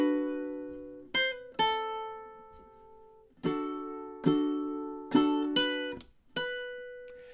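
Ukulele plays measures 21–22 of a song, a quiet, close melody of plucked single notes and strummed chords in steady time, alone without any voice.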